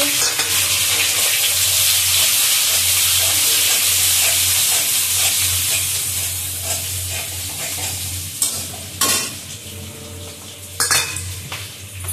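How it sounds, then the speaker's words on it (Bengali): Capsicum, onion and green chillies fry in a wok with a loud continuous sizzle, stirred with scraping and clinking utensil sounds that grow sharper toward the end. "এর মধ্যে ক্যাপসিকাম একটা, পেঁয়াজ আর 4-5টা কাঁচা লঙ্কা দিয়ে দিলাম কড়াইতে।"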